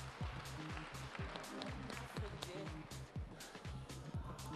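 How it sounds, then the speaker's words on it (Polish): Steady, dense clapping from an audience at the third Ostrowiec sports gala, filling the room without a break over a low droning background, with voices faintly mixed in. "I brawa."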